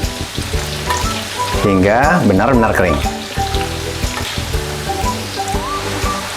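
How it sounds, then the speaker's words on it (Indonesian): Tempeh frying in hot oil, giving a loud, steady sizzle with bursts of bubbling as it cooks, while someone talks over it. "Selanjutnya saya menggoreng tempenya."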